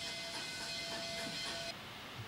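A steam locomotive on the Corsica railway hisses, a steady, loud broadband hiss of escaping steam with a faint whistle-like tone that stops abruptly near the end, leaving a softer hiss.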